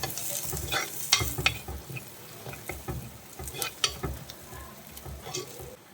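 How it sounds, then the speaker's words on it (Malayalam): Green chillies sautéed in a pan for a stingray curry, a steady sizzle with frequent scraping stir strokes and small clicks, close and fairly loud, with no talking. "പച്ചമുളകും ചേർത്ത് ഒന്ന് വഴറ്റിയെടുത്തതിന് ശേഷം"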